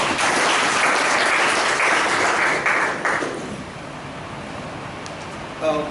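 Audience applause for the MC and Sergeant at Arms at a club meeting with prepared speeches and awards, a dense burst of clapping that fades after about three seconds into a quiet room.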